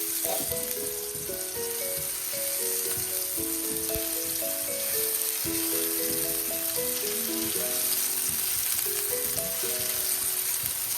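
Chopped red onions frying in a pan for shrimp bruschetta, a loud, close, continuous sizzle and crackle that stays even throughout, with no talking.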